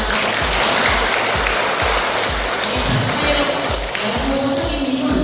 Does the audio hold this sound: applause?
yes